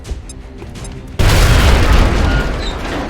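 A grenade goes off in XCOM Enemy Within after a quiet moment: a sudden loud, deep boom that holds as a dense roaring rumble and slowly fades, with no voices.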